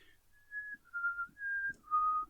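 A voice imitates a whistling sound with four sustained whistled tones, rising and falling in pitch, clear and close with short gaps between them and no talk.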